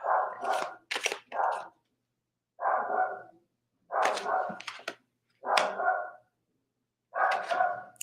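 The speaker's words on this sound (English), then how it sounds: "Sorry about the dog." A dog barks close by in a home, sharp barks coming in separate bursts with quiet gaps between them, several single and double barks over about eight seconds and no talking.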